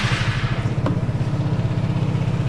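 A Vespa GTX 300 scooter fitted with a GTS engine hums along while being ridden, a loud close engine with a quick, even pulsing throb and wind rush, no voices.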